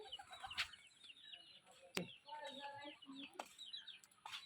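Pigeons gathering to feed on grain, near and busy with overlapping coos and chirps, soft wing flaps and scattered sharp clicks, set among farmyard fowl sounds with faint voices in the background.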